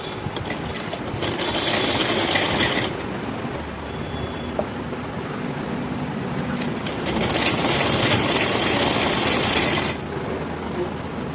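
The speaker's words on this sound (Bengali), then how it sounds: "আর একদম ধার থেকে সেলাই দিচ্ছি" A sewing machine stitches stone lace along the edge of a blouse neckline, running in a steady whirring drone with two louder, faster bursts, while someone talks over it.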